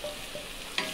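Sautéed onion and capsicum go into a sizzling pan for a milk paneer bhaji and get stirred, a short, steady fry hiss with one sharper scrape of the spoon near the end, no talking.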